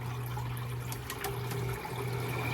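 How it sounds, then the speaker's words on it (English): Water trickles and splashes steadily over a low mechanical hum, continuous and close, with no voices, from an evaporative cooler running on its waterfall setting inside a van. "that is just the water setting if you want to just hear the waterfall"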